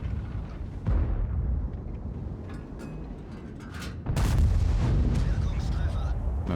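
A Pz. VII tank fires its main gun in World of Tanks, with two heavy booming shots: a sharp blast near the start and a larger, sustained roaring boom about four seconds in, over a constant rumbling battle ambience.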